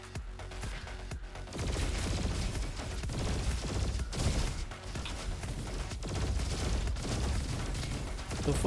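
Rapid bursts of exploding gunfire in the video game Roboquest, dense and loud, thudding and crackling almost without pause after a quieter opening second.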